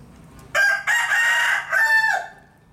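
A rooster gives one loud, close crow of about two seconds, with a brief break partway through, against quiet background noise.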